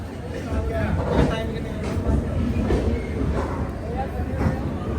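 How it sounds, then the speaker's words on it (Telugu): A DMU train runs alongside on the next track, a loud continuous rumble with rhythmic clatter and periodic thumps of wheels over rail joints, with voices in the background. "పక్కనే ఒక డిఎంయు."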